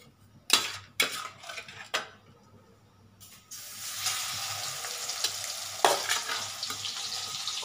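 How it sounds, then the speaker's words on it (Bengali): Prawns are eased into hot oil and burst into a bright, hissing sizzle. Sharp clinks of a utensil against the pan come before it, and the frying then settles into a steady crackle with one more metallic clack near the end. "তেলটা গরম হয়ে এসছে, এবার আমি মাছটাকে এটার মধ্যে আস্তে করে ছেড়ে দিচ্ছি।"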